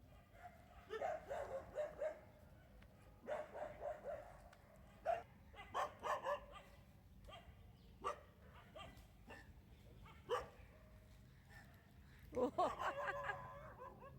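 Dogs bark in scattered, repeated bursts that sound fairly distant and faint, with short yips and whimpers between the louder barks.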